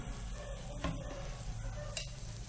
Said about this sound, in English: Spread it on the tawa, dosa pan. Add some oil on it